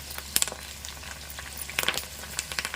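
Fresh curry leaves dropped into hot oil crackle and spit in sharp, uneven bursts, loud and close over a steady low frying hiss, with no talking.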